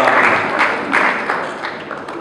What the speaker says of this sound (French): On applaudit pour celui qui nous a rassemblés aujourd'hui,